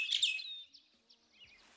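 A bird pet's chirping call from the Super Auto Pets game: a brief, bright tweet that opens loud and trails into a few fainter chirps, with no talking over it.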